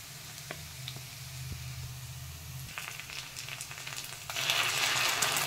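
Fried rice sizzling softly in a pan as tomato ketchup is poured in, a low steady frying hiss that swells louder near the end.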